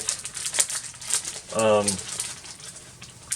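A package comes out of a resealable plastic bag in one short, loud crinkling burst. Soft ticks and rustles come before and after it.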